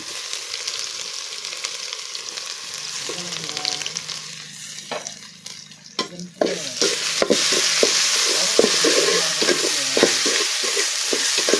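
Crushed garlic and ginger dropped onto golden fried onions in a pan sizzle moderately at first, then flare louder, with a run of sharp spoon scrapes and knocks against the pan over a steady frying hiss.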